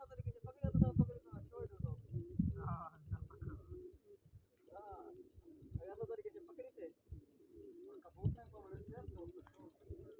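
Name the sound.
pigeons cooing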